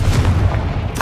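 A Confringo fire spell goes off in the Hogwarts Legacy video game as a short, loud, booming blast with a heavy low rumble, followed by a brief crackling tail.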